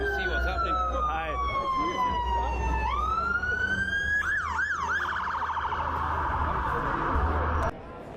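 A fire engine's siren wails past, sweeping down in pitch, then switching to a rapid yelping warble over street traffic noise, loud and fairly close, with a voice talking faintly in the background.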